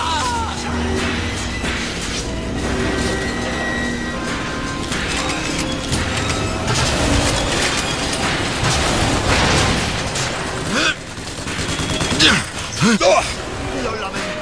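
Sustained, dense game combat in BioShock Infinite with gunfire and booming impacts packed over clanking mechanical noise, loud throughout and building toward sharper bursts near the end.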